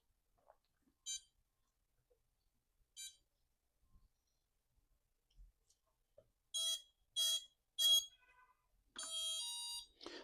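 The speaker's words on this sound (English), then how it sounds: "the audible tones where it beeped and then gave 3 beeps, which counts the cells in the battery" A series of short electronic beeps from an RC plane ESC arming with a 3S battery: a few spaced single tones, then three quick high beeps counting the cells, followed by a longer rising tone sequence.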